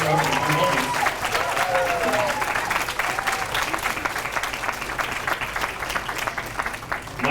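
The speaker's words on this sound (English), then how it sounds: "How about a big round of applause for the young lady here?" Big round of applause from an audience at a 2015 campaign kickoff event, steady dense clapping that continues for the whole stretch with crowd noise, and a few brief tonal whistles or voices rising above it early on.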